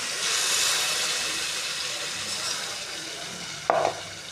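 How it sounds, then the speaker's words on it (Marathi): Boiled tomato purée poured into a hot pan for tomato rice, giving a steady frying sizzle and hiss with stirring, then a brief louder splash-like burst near the end; no voices. "टोमॅटो राईससाठी टोमॅटो बॉईल करून आपण त्याची प्युरी करून घेतलेली आहे। आता ती यामध्ये आपण टाकूया।"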